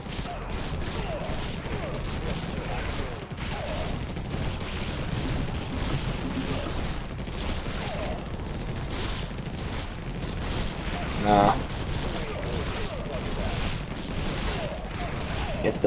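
Weapon fire in the sci-fi strategy game Infested Planet, a dense continuous rattle of gunshots and small booms that holds at an even level throughout, with a brief louder burst near the end.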